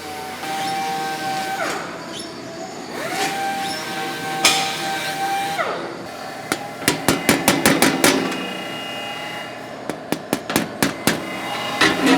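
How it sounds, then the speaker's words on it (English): A planishing hammer fitted with a 36 die shapes sheet metal, first in intermittent runs and then in rapid bursts of sharp, loud metallic hits, close by and with no talking. "I'll run this through the planishing hammer with like a 36 die"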